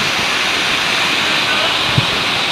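Kapandagan Falls in San Gabriel, La Union, pours as a loud, continuous waterfall roar that fills the whole scene with steady broadband rushing and no pauses.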